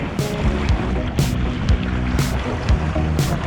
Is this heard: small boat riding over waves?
yes